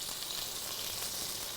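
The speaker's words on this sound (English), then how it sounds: "You can hear that sizzle." Shrimp sizzling in a hot pan with garlic for shrimp scampi, a steady broadband frying hiss that stays close and even throughout, with no voices over it.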